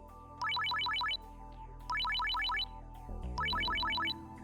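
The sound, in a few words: smartphone ringtone in Steins;Gate 0 video game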